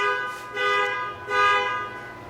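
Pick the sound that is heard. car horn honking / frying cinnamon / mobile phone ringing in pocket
car horn honking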